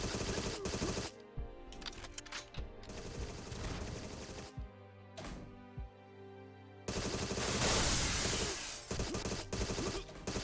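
Rapid gunfire bursts in the shooter game Agent 64: Spies Never Die, loud and close, coming in clusters with short gaps and a dense sustained barrage near the end.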